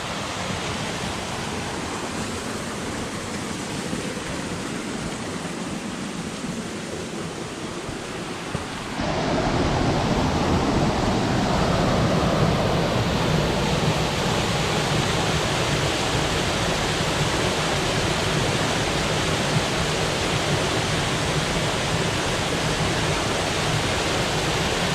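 A mountain creek rushes beside a hiking trail in the Adirondack High Peaks of New York, giving a constant broadband roar of flowing water that grows louder and fuller partway through as the stream comes closer.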